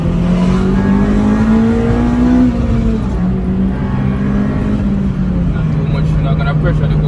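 A 2008 Honda Civic FD2 Type R accelerates hard, its engine note droning loudly and rising steadily in pitch, dipping briefly at a shift and then pulling again, heard from close by inside the car.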